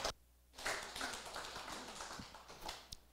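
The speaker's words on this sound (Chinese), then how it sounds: "请掌声欢迎他，谢谢。" Small lecture-class audience claps to welcome a speaker, a modest, close patter of hand claps lasting a few seconds after a short quiet gap.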